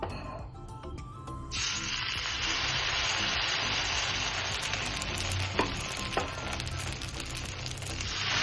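Beetroot dosa batter poured into hot oil on a heated pan breaks into a loud, steady sizzle that stays up close, with a couple of faint clinks partway through and no talking.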